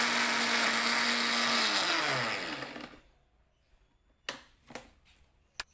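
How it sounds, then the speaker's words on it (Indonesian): A blender grinds chili spice paste with no oil or water, a loud whirring roar for about three seconds before cutting off, followed by a few sharp clicks and knocks. "Selanjutnya bumbunya di blender tanpa minyak dan tanpa air"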